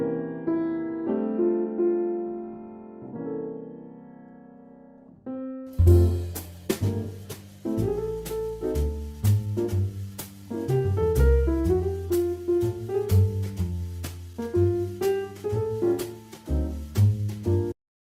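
Solo jazz piano moves out of a quiet rubato opening into a swinging rendition of O Christmas Tree, with crisp rhythmic chords and a walking bass line that keep a steady beat and no voices.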